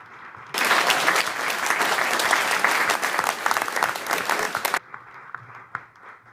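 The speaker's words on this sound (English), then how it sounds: "just give them a round of applause for being so likable and available for all of us" An audience at a 2015 West Hollywood candidates forum gives a burst of applause that starts suddenly, holds for about four seconds, then cuts off to a quiet room.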